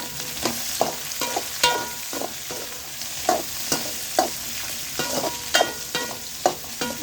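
Pirandai (adamant creeper) with green chilli sautéing in a pan for chutney: a steady close sizzle of frying, with repeated scraping stirs of a spoon against the pan at an uneven rhythm throughout.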